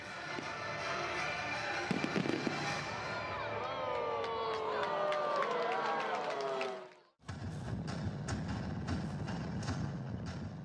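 Fireworks burst over the night sky of Buyeo at the opening of the 70th Baekje Cultural Festival, with whistling rising trails and crackling pops over a murmuring crowd.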